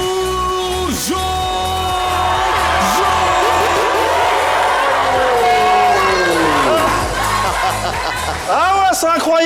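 Live audience at a stage show roaring, whooping and shouting loudly and continuously, rising excited cries layered over a dense crowd din.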